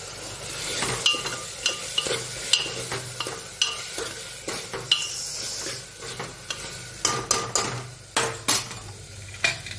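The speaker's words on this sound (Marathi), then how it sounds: "हे सगळं इथे भिजवलेलं आहे ना, हे सगळं घालू, टाकू टाकू टाकू मिक्स करू सगळं।" Soaked dill and spinach are stirred into a hot pan, a soft sizzle under frequent scraping and clinking of a metal spoon against the pan in quick irregular strokes, close and without speech.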